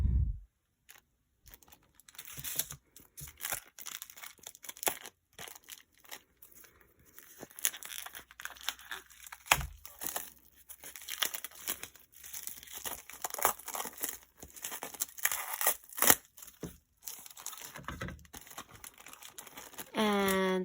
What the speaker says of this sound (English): Sorry if you don't like the sound of plastic.